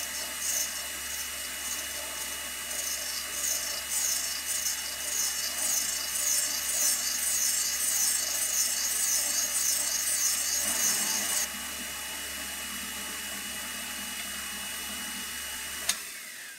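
A surface grinder works a metal part as the hand wheel traverses and the down feed is set, giving a steady close hiss and grinding rasp that stops abruptly near the end, leaving machine hum and a sharp click.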